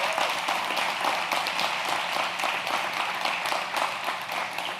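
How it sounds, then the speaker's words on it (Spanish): Sustained applause from a church audience at a sermon, dense and steady clapping throughout at an even loudness with no break. "no me dejen ese hombre aplaudiendo solo"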